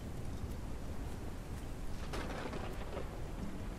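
Steady rain with rolling thunder in the farming video game Ranch Simulator, a dense continuous wash of downpour with a brief louder rumble swelling partway through, no speech over it.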